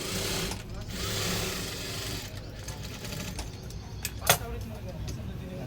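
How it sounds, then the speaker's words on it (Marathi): A sewing machine topstitches a tucked blouse, a continuous close mechanical whir with a sharper click near the end, and a voice talks over it. "बरोबर ह्याच्यावरती दाबशिलाई घेतोय"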